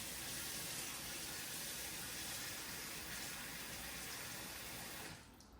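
Water pours steadily into a pan around meat for Italian beef gravy, a continuous close splashing gush for about five seconds that stops abruptly near the end.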